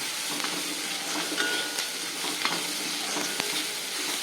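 Grated carrot and vegetables frying in a pan, a steady soft sizzle with occasional stirring scrapes and light clicks, close and continuous with no talking.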